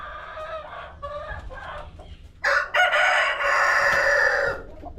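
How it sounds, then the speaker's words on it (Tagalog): A Rhode Island-sized rooster gives a few clucks, then lets out a loud, drawn-out crow nearby, with faint background noise and no talking. "Grabe yung manok nila."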